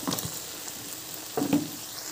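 Potato pieces drop into hot oil for a rui fish curry with Malabar spinach, giving a steady broadband sizzle with a couple of louder spattering bursts and stirring, close and without talk.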